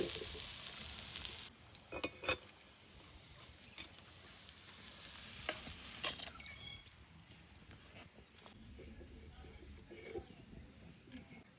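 Susuni greens sizzling and crackling as they are stir-fried until crisp, with scattered scraping clicks of the spatula against the pan; soft, close and fairly quiet, no talking.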